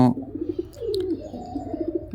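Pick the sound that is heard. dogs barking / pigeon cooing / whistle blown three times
pigeon cooing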